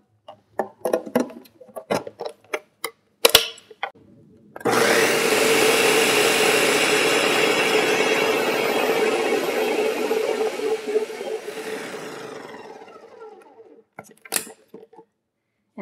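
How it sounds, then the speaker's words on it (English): Countertop blender whirring through pineapple, ginger, maple syrup and nutmeg, a loud continuous grinding roar of about seven seconds that winds down, framed by clicks and handling knocks before and after. "Blend this all up."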